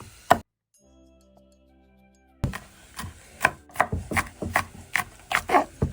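Knife chopping and slicing red vegetables on a cutting board, about a dozen sharp, evenly paced close thuds after a brief quiet pause, no voices.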